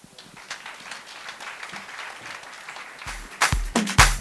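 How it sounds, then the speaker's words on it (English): An audience at a kick-off meeting breaks into clapping, a burst of applause that swells near the end after a quieter stretch of room noise. "Let's give Erica another round of applause."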